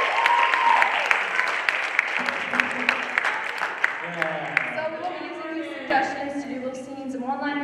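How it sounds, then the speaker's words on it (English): Steady applause fills the room, a dense patter of clapping that carries on as people start talking over it and the clapping gradually thins. "Round of applause."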